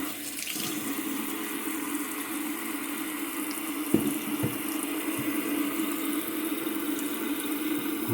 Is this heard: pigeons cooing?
no